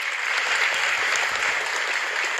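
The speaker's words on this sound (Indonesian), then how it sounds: "Tepuk tangan buat Pak Marga." Steady, dense applause from a crowd at an Islamic religious gathering, clapping evenly throughout without pause.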